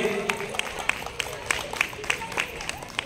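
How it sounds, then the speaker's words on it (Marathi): An audience at a community jubilee celebration claps for the children, with quick steady rhythmic clapping under a crowd murmur and voices talking. "जोरदार टाळ्या सर्व मुलांसाठी व्हायला पाहिजे."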